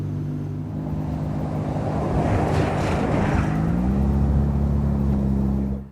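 A 1975 MGB driving down the road, a steady low engine drone with rushing wind and road noise that swells midway as the engine pitch rises slightly, no talk over it.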